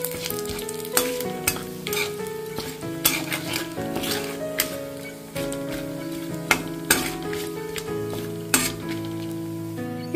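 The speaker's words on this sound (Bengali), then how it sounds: "এবারে ওই তেলের মধ্যে আমি দিচ্ছি একটা তেজপাতা, দুটো শুকনো লঙ্কা, হাফ চামচ গোটা জিরে আর এক টুকরো দারচিনি আর একটা এলাচ দিয়ে দিলাম।" Bay leaf, two dried chillies, whole cumin, a piece of cinnamon and a cardamom pod fry in hot oil, sizzling steadily while a utensil stirs and clinks repeatedly against the pan, close and with no speech.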